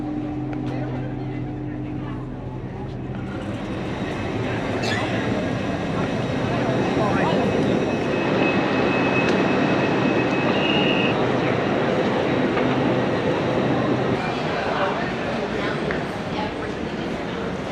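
An LNER train arrives at King's Cross station in London, giving a steady, fairly loud rumble and rolling roar that swells midway and continues throughout, with faint station ambience.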